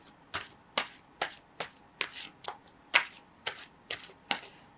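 Gilded Reverie Lenormand cards being shuffled up close, with about ten crisp, evenly spaced riffling bursts and no voices.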